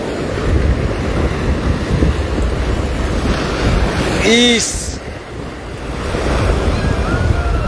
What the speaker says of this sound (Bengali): আর চলছে দুর্দান্ত ঢেউ